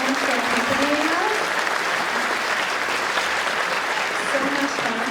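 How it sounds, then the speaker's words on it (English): Sustained applause from the audience at a junior school spring concert in 2022, a full, even clapping wash with a few faint cheers and voices rising through it. "Let's also give a big round of applause to Miss D'Angeli on the piano."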